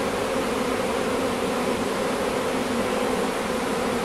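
A honeybee swarm filing into a hive box, some bees fanning at the entrance, makes a dense, steady buzz that stays loud and close and never changes in level.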